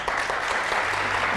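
Audience applause for a performer on a stage show, a steady burst of close clapping from a crowd.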